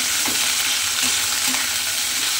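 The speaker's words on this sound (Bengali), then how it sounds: "আলু আর গাজরটা প্রথমে আমি দিয়ে দিলাম, দিয়ে একটু তেলের মধ্যে এইভাবে একটু নাড়াচাড়া করে নেব" Potato and carrot pieces stirred in hot oil in a pan, a steady close sizzle with soft scraping strokes of the spoon repeating about every half second.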